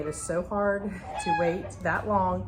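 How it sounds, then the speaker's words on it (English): Backyard hens cluck and cackle loudly at egg-laying time, with repeated drawn-out calls rising and falling close by while someone talks over them. "I'm sorry if you can hear my chickens in the background"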